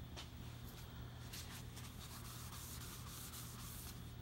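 Continuous rubbing of a rag polishing anodized aluminum trim on a 1976 Ford truck, steady friction with firm pressure, close and alone without talk.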